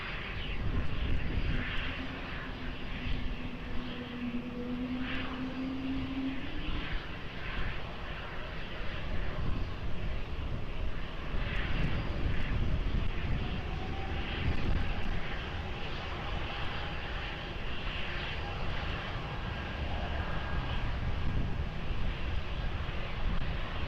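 Aircraft taking off from runway 20 at Lisbon Airport: a steady, broad engine roar held at moderate level throughout, fairly distant with no close peak, with no talk over it.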